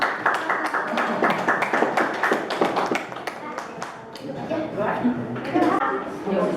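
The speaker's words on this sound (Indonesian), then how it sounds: "tepuk tangan untuk kelompok" A small group claps together in a room, a quick run of close hand claps that thins out into chatter and talking voices.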